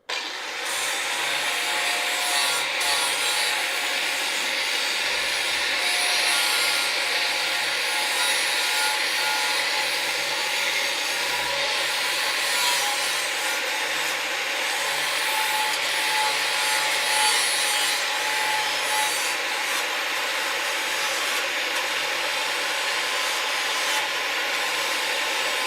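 Flap disc on an angle grinder working the metal of a Dodge Charger crew cab rear trunk crossmember, a loud, continuous abrasive roar that runs steadily for the whole stretch without a break.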